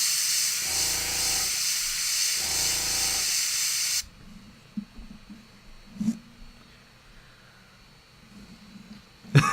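Airbrush spraying paint on a Warhammer 40k Tempestus Scions miniature: a steady, loud hiss of compressed air runs for about four seconds, pulsing twice underneath, then cuts off, leaving faint handling knocks and a quiet room.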